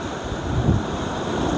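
Waves wash steadily onto the beach at Adra, Andalucia, forming a constant broadband roar mixed with wind buffeting the microphone, with a slight swell midway.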